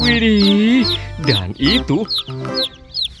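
Clucking from a brightly coloured rainbow chicken, several short bursts in quick succession, close and fairly loud, with a voice speaking over part of it.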